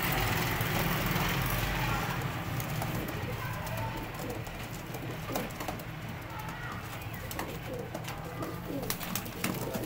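Ferozpuri pigeons, including a large breeding male, coo softly against a steady low hum and background noise, with scattered brief calls and clicks throughout.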